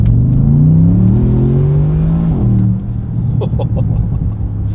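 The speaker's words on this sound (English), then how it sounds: "You can really feel that 0 to 60 acceleration there" A Bentley Continental GT V8 S, a heavy two-and-a-half-ton car, pulls hard from a standstill toward sixty, its engine note rising through the gears as a loud, steady rumble heard from inside the cabin.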